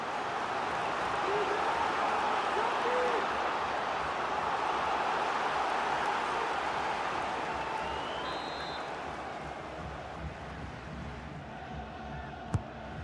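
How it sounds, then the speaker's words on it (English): A stadium crowd in the FIFA 23 video game, at a Ligue 1 match between Stade Brestois 29 and Paris Saint-Germain, roars as a broad continuous swell that fades slightly toward the end, with a commentator speaking over it. "Well, just listen to the crowd."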